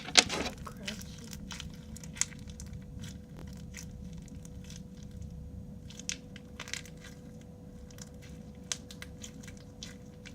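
Crunchy homemade slime, mixed with contact solution, is squeezed and pressed by hand close up, giving faint scattered crackles and small pops over a quiet background.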